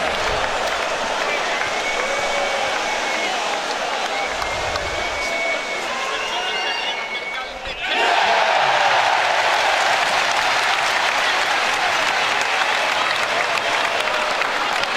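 An arena crowd at a EuroBasket game between Germany and Israel roars and applauds through free throws, a sustained wall of noise that dips briefly and then swells louder, with commentary over it.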